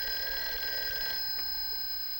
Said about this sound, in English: Hey, that's your phone, Uncle Bill